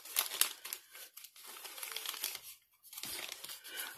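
Crinkling of thin plastic packaging from a Dollar Tree item being handled up close, in irregular crackly bursts with a brief pause near the end.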